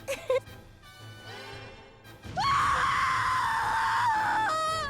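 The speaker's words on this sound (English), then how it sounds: "That is quite the scream." A character in the video game Bravely Default: Flying Fairy lets out a long, loud, sustained scream after a few brief vocal sounds and quieter background music.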